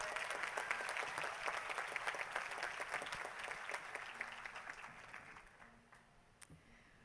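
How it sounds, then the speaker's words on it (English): Applause from the audience at a Peabody College master's diploma ceremony, steady dense clapping that gradually thins and fades toward the end, with a few isolated claps trailing off. "Let's give them a hand of applause, even though they're not here."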